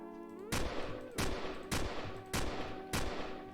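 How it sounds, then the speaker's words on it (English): Weapon fire in a Unity video game, five sharp, evenly spaced shots ringing out over a steady background hum, with no talking. "I can fire this weapon."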